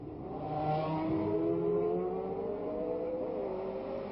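1967 Formula 1 race cars at the Monaco chicane, engines revving and droning with shifting pitch as the cars run wheel to wheel, loud and continuous with no talk.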